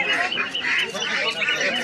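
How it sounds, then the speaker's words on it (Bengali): Native domestic ducks at a busy poultry market give a dense, continuous chorus of loud, nasal quacking and honking calls, close and overlapping, with a faint murmur of voices underneath. "এই যে দেখেন এপাশে দেশীয় হাঁস নিয়ে আসছেন ভাই"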